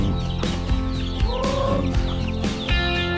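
Several chickens clucking close by on a farm in San Dionisio, Iloilo, overlapping bursts of throaty clucks and squawks, loud and continuous with no talking.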